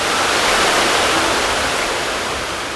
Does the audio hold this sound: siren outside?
no